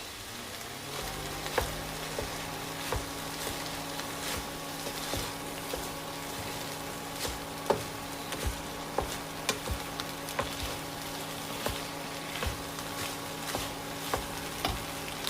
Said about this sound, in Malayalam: ഇനി ഇതിലേക്ക് എടുത്തു വെച്ചിരിക്കുന്ന ചോറ് ചേർക്കാം ഇത് നന്നായിട്ടൊന്ന് മിക്സ് ചെയ്യാം